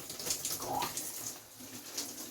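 Water from a tap or shower runs steadily while coconut coffee body scrub is rinsed off skin, a close, continuous splashing hiss with a few brighter spatters and no talking.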